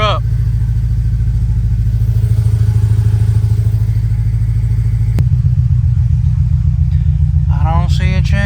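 A supercharged widebody Scion FR-S idles loudly in a steady, throbbing drone as it backs up, the engine note shifting pitch partway through, with a brief voice near the end.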